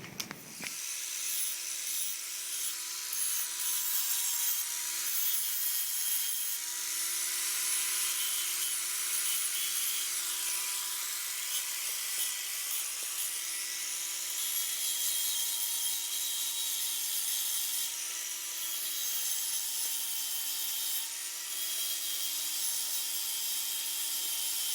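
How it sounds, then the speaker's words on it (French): Steady, continuous rasping of a hand file shaping a point on a PVC spear shaft, loud and close, grinding on without pause and with no talking. "vous pouvez très bien utiliser une lime, ça fera l'affaire."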